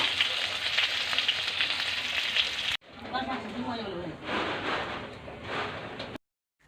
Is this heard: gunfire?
no